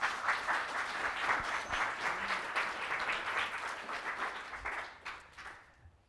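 An audience at a visiting artist lecture claps to welcome the speaker Ben Edwards, a dense, sustained wash of applause that holds steady before thinning out at the end.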